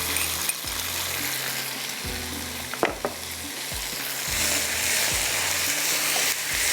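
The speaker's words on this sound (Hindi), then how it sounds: "ये देखिए साथ साथ में प्याज जो है हमारा ब्राउन होना शुरू हो गया, वो इसके साथ ही अच्छी तरह से आपने इसको भूनना है।" Onions with ginger garlic paste and salt fry in a pan, a loud continuous sizzle close up, punctuated by a few metallic scrapes and clinks of stirring.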